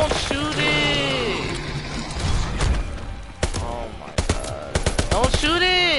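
Bursts of automatic gunfire and thuds from Call of Duty WW2, heard under excited, frequent talk between speakers.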